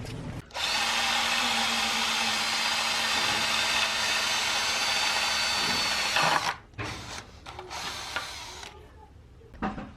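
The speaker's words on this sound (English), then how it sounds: "all that's left now is just to drill the holes out" A battery-powered drill whirs steadily at close range for about six seconds, drilling a hole for a blacksmithing project, then stops, followed by a few brief rattles and clunks.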